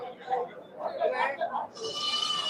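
Sheep and goats bleat at a Saturday livestock market in Ettayapuram, several nearby cries overlapping with background chatter and people talking.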